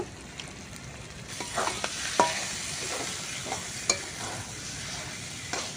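Spiced oyster curry with potatoes and garam masala is stirred and fried in a pan, a soft steady sizzle punctuated by scattered clicks and scrapes of the spoon, close with no voices.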